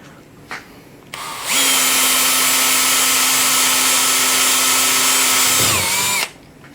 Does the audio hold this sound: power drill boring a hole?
yes